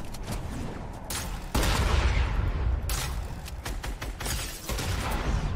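Shotgun loaded with explosive rounds in Fortnite goes off in loud booming blasts, one heavy shot then a couple more, with rattling mechanisms and game noise between them.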